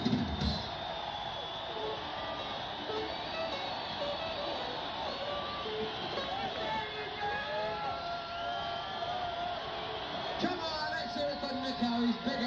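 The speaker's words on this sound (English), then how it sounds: "Give him a cheer" A large arena crowd at a 1985 concert in Irvine cheers for the drummer, a broad sustained roar with whistles and shouts, steady and moderately loud from start to finish.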